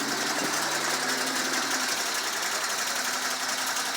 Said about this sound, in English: The muffler's noisy.